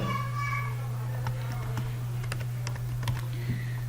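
Keys on a computer keyboard are typed in a short burst of scattered clicks under a steady low hum, with quiet background sound between the keystrokes.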